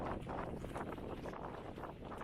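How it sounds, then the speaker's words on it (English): Strong wind buffets the microphone on the open summit of Mt. Washington at sunset, a steady loud roar with gusty surges throughout and no voices. "It's windy."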